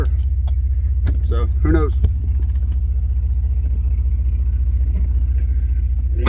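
A Willys wagon engine with 270,000 miles idles steadily, a low, even, pulsing rumble close to the microphone, while someone speaks briefly over it.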